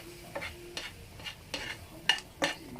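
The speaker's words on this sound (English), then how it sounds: "You want to just mix this into a very smooth paste." A spoon stirs flour and a little water into a smooth paste for Swedish brown sauce, giving six quiet, distinct scraping strokes spaced about half a second apart over a low background hum.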